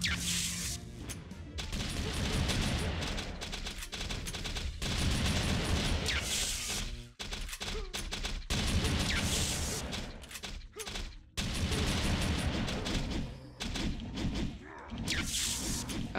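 Gunfire in the VR shooter game Oblivion Tesseract, with loud, dense bursts of shots and impacts in rapid clusters broken by short pauses, near and harsh, with no talking.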